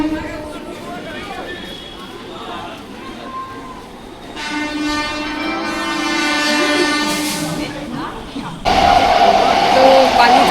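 Commuter train ride near Bally in Hooghly district, with a continuous rumbling carriage roar and a loud horn-like toot partway through, while people talk over the noise.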